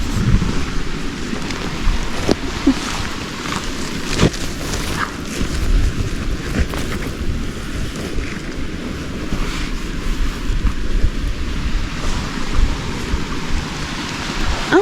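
A forest waterfall roars loudly and continuously nearby, a dense rushing wash of water with no voices over it.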